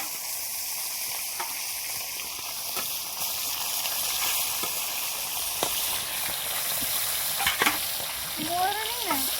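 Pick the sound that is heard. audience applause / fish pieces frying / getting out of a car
fish pieces frying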